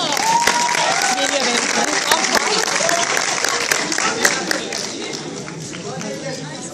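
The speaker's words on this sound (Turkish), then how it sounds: "Alkışlarınızla" Audience applause welcoming a university dance school's samba show, a full wash of clapping mixed with crowd chatter and voices, loud at first and easing slightly toward the end.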